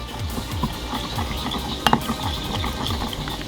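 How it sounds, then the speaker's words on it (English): Braised potatoes in umami sauce of rice syrup, tamari and soybean sauce being stirred in a pan, a steady scraping and sloshing mix with a couple of sharp utensil clinks partway through. "And I'm just going to give this a quick little mix."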